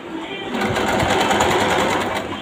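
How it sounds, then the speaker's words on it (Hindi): Sewing machine running a line of top-stitching along the edge of fabric, a steady close whirring rattle with fast even needle beats that speeds up slightly after the start and then holds. "तो यहाँ पर मैं टॉप स्टिच लगा रही हूँ बिल्कुल एंड तक ही"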